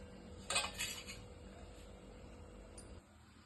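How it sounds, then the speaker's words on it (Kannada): A pressure cooker is set onto a home stove while making tomato bath, giving a brief metallic clatter and clink near the start, followed by quiet kitchen background. "ಇಲ್ಲಿಗೆ ಕುಕ್ಕರ್ ಇಡ್ತಾ ಇದ್ದೀನಿ."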